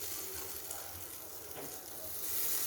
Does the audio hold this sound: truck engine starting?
no